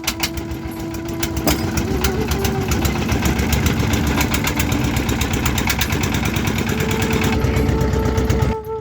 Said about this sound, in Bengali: খেয়া নৌকায় করে এবার আমাদের যাওয়ার পালা